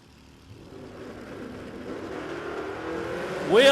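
Trevor Davis's Cortina drag car at Warwick Dragway, engine noise swelling steadily from faint to loud over a few seconds, peaking in a sharp roaring rev at the end.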